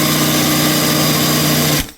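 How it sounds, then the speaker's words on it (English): A power drill countersinks screw holes in a wooden board, running loud and close in one continuous whirring burst before spinning down at the end. "Okay, let's countersink those holes."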